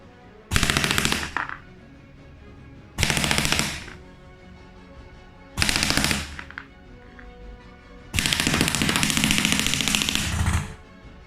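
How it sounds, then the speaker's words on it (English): A Kaslab MTW HPA airsoft rifle with a Wolverine system fires full auto in four loud, close, rapid bursts, the last one longest, with short quiet gaps between them and no talking. "Now we're gonna try full auto."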